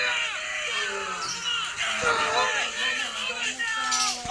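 Screams and shouts fill an airplane evacuation video game, with high voices crying out over a steady din of game sound, continuous and fairly loud throughout.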